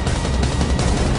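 An explosion sound effect in a documentary about the 1947 New Mexico debris events gives a loud, dense, crackling boom that fills the whole short burst without a break.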